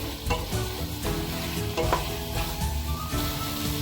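Pumpkin and fish curry stirred and frying in a pan, with a steady sizzle broken by repeated scraping strokes of a spoon in an uneven rhythm.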